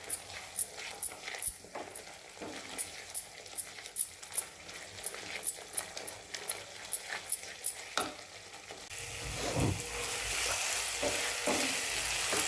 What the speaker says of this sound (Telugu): ఈ మసాలా బాగా పచ్చివాసన పోయే వరకు వేగనివ్వాలండి